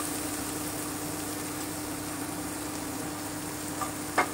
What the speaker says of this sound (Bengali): পাঁচ মিনিট আমি ভেজে নিচ্ছি